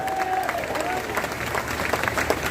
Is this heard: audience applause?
yes